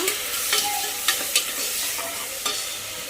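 Tomatoes and onions sizzle in a pan for vegetable biryani, with a steady frying hiss broken by several distinct scrapes and clinks of a spoon stirring, close and clear, no voices.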